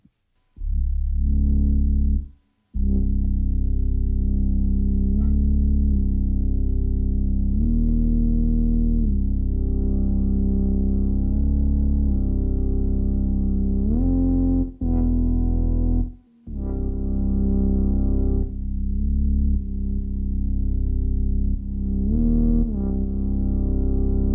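A droning synthesizer with glide plays low, sustained notes that slide smoothly between pitches, loud and continuous with brief gaps.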